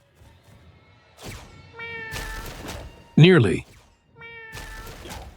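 Cartoonish cat meows from the roguelike video game Mewgenics, one loud, sharp meow standing out in the middle, with someone talking before and after over quiet game sounds.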